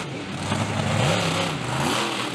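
A monster truck engine revs hard at an outdoor monster truck show, its loud roar rising and falling in pitch as the throttle swings, with a wash of crowd and arena noise behind it.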